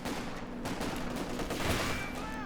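Dense gunfire fills a World War II strategy battle in the streets of Caen, with rapid overlapping shots, MG34 machine-gun bursts and a sniper crack, loud and continuous, faint commentary underneath.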